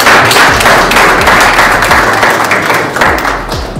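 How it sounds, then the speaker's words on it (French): An audience claps steadily at a welcome ceremony for new Congolese students in Namibia, a dense, loud round of applause that holds for several seconds and eases slightly at the end. "Je vais demander que vous applaudissiez aussi."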